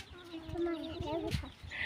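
A chicken on a farm gives short, close clucks and throaty calls in an uneven rhythm, with a brief higher squawk near the end.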